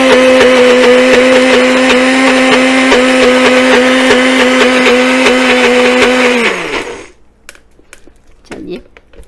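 A blender grinds tahini dip with a loud, steady whining motor drone that winds down and stops near the end. Faint handling noises follow.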